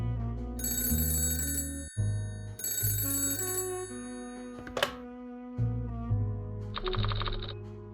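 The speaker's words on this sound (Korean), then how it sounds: "전화 걸 수 있을 것 같은데?" Old-style telephone bell ringing in a mystery video game, two long loud rings separated by a pause, followed by a thunk and a brighter electronic trill, with steady game music beneath.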